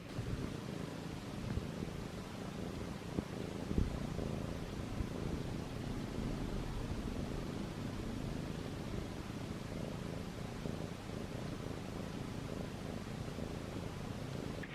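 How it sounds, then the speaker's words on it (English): A house cat purrs close up in a continuous low, rumbling drone that holds steady for the whole stretch, soft and even with only faint rustles on top. "Also, there's a cat there."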